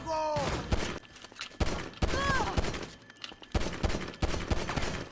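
Handgun gunfire in GTA Online as a player takes out guards, a rapid run of sharp shots at close range with brief pauses between bursts.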